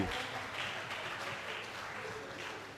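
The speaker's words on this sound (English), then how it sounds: "Please, a round of applause to all of" A small audience gives a round of applause at the end of an academic staff session, a soft steady wash of clapping heard faintly from some distance, without distinct individual claps.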